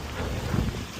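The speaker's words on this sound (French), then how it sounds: "avec le vent, la pluie, il fait froid." Cold wind and rain outdoors, with gusts buffeting the microphone in a steady, close, low rumble for about a second; no one speaks.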